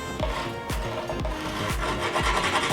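The edge of skateboard grip tape is ground down against the deck, making repeated rasping strokes in a steady rhythm. Each stroke gives a close, gritty scrape.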